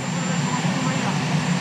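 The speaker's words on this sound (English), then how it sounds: "Almost drowned out by the sound of the presidential helicopter" Steady, loud rotor and engine roar of the presidential helicopter, a dense continuous drone filling the whole moment with no pauses.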